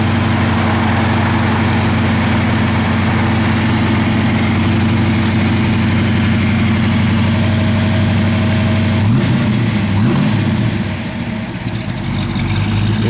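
A 1971 Ford Mustang Boss 351 V8 idles steadily and loudly up close, with a deep, even rumble that wavers briefly near the end; no talking.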